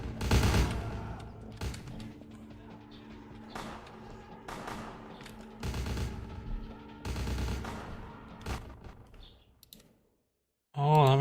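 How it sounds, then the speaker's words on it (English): Enemies armed with Uzis shoot at each other in the game Vampire: The Masquerade, firing repeated sharp bursts of gunshots in clusters, fairly faint and distant, with a person talking over the fire before a short silence. "Oh, they're shooting each other."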